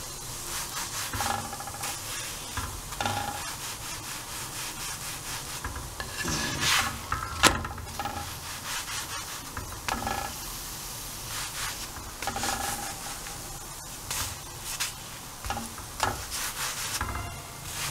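Aloo paratha pressed down on a hot pan as it cooks, giving a soft, steady sizzle with scraping and rubbing sounds from the pressing, quiet and close.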